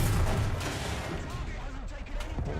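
A Chieftain Mk3 tank in the video game War Thunder firing its main gun, one heavy booming blast at the start that decays into a rumbling tail under continuous engine noise.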